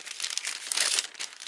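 Crinkly craft packaging with a bird design, holding bird tags, is opened in a short close burst of continuous crumpling and rustling, with no talk.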